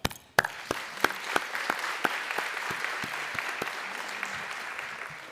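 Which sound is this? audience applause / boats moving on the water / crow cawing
audience applause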